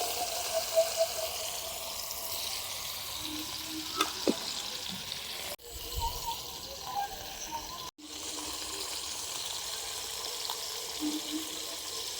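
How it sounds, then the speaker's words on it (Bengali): Steady close-up sizzle of fish frying in hot oil, continuous crackling with a couple of brief clicks and pauses, no voices. "মাছগুলো ভাজা হয়েছে, তুলে নেব"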